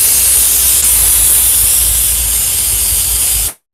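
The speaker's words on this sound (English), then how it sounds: "now we can see the GOCLEAN Steam is opening, and it has the dry steam and wet steam" A GOCLEAN steam cleaner sprays dry and wet steam in a loud, close, continuous hiss that cuts off sharply at the end, with no talking.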